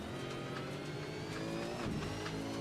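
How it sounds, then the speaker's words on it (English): A racing car in a Gfinity Supercars esports video game, engine droning steadily as rocks and dirt rumble under the tyres, loud and continuous with a brief tyre scrub. "can hear the rocks and dirt underneath the car"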